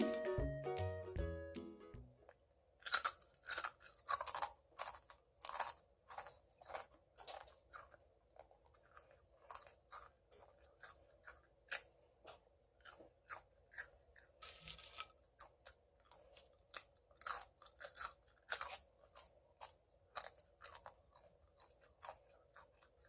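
Crunchy fried filefish jerky is bitten and chewed close to the microphone, with sharp crackling crunches in an irregular rhythm that continues for about twenty seconds after a brief musical opening.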